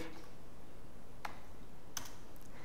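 Keys clicking on a computer keyboard while coding an ASP.NET C# page, only a couple of sparse, faint taps over a quiet room hiss.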